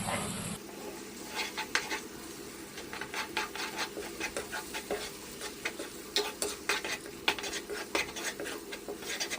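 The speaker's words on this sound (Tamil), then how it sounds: "நம்ம சேர்த்துக்கிட்ட முட்டையை எண்ணெயில் நல்லா வதக்கிடலாம்." Eggs fry in oil while a utensil stirs them, giving a steady soft sizzle under repeated scraping and clinking strokes against the pan, close and fairly quiet, with no talking.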